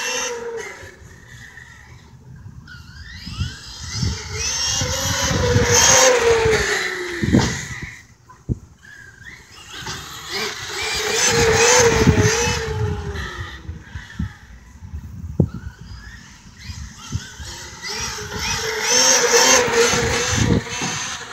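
A Redcat MT8e 4S electric RC monster truck runs with its motor whining and tires roaring in three long swells of acceleration, separated by brief lulls with sharp clicks and knocks, loud and close.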